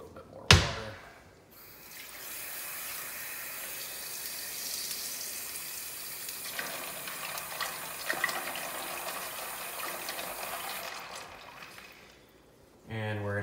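Water pours steadily into a pan for a yeast starter, a continuous rushing splash lasting about ten seconds after a brief clatter, fairly close, then tapering off.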